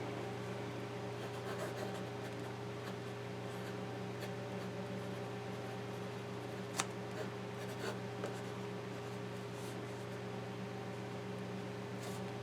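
Fountain pen nib scratching across paper, faint soft strokes with a few light taps over a steady background hum.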